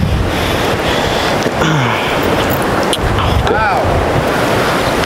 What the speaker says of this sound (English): The wind is crazy right now.